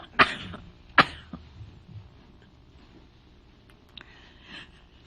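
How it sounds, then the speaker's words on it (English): A woman coughs sharply twice in close succession near the microphone, followed by a few fainter throat noises and breaths in an otherwise quiet room. "I have to cut because I have to cough"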